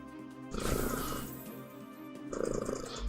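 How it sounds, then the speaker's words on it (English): A pet cat purrs close to a microphone in two soft, rumbling swells, the second starting after a brief lull. "Purring provided by a cat"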